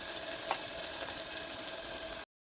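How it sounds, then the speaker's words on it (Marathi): Onion, garlic and red chilli masala frying in hot oil inside a clay pot for village-style mutton, a steady close sizzle with a few soft stirring clicks, cutting off abruptly near the end. "तेल तापले त्याच्यामध्ये हा मसाला घालते चार चमचे मसाला घातलेला आहे"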